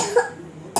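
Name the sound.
child coughing with flu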